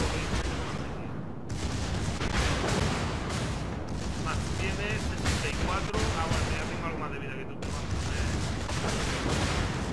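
Dense, continuous booming naval gunfire and explosions from World of Warships, a North Carolina versus Bismarck battle, fill the scene, loud and near, with voices talking over the barrage.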